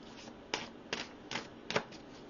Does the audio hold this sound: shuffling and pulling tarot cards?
yes